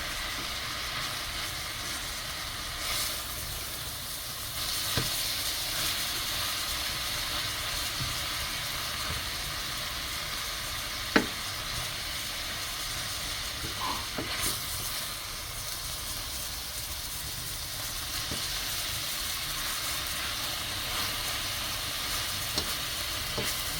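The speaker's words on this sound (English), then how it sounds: "I'm going to put a piece of butter, just some butter in the pot" Butter sizzles in a pot as a dense, even hiss that runs steadily from start to finish, close and fairly loud, with an occasional faint clink and no talking.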